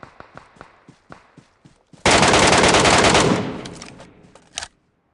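Scattered single gunshots, then a loud sustained burst of rapid automatic fire lasting over a second, fading into a few more isolated shots.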